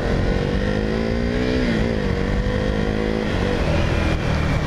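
A 2016 KTM Duke 390 motorcycle being ridden, its single-cylinder engine droning loud and close with slight pitch shifts as the throttle varies, no talk.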